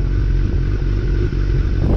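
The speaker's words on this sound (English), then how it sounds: "I'm just gonna accelerate first gear all the way to the limiter." Motorcycle on a street accelerating hard in first gear toward the rev limiter, a loud close engine roar held steady for about two seconds.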